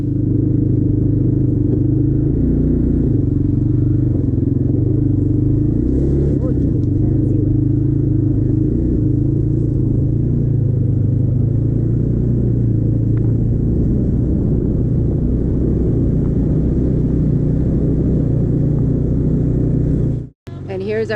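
An ATV engine idles in steady, loud, low rumbling at close range, holding nearly constant for about twenty seconds before cutting off abruptly near the end.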